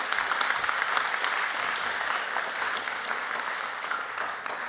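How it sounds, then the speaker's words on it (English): A lecture audience at a public science talk on artificial intelligence gives a steady, dense round of applause, moderately distant and filling the whole stretch without a break. "So let's have a big round of applause for Neo."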